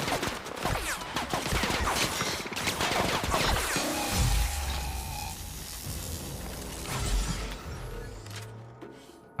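Rapid bursts of gunfire from a charge-up gun in The Outer Worlds, a sci-fi shooter, crackling in a dense volley through the first half before thinning into scattered shots and low rumbling impacts.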